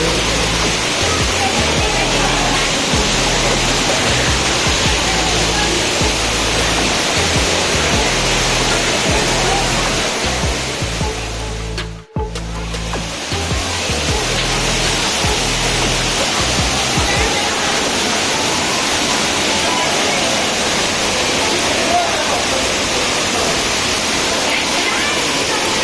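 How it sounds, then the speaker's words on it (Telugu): Artificial waterfall inside a Bangalore aquarium roars in a loud, unbroken rush of falling water, with a momentary dip about halfway through before the steady torrent resumes. "లైక్ రియల్ వాటర్ ఫాల్స్ లెక్క"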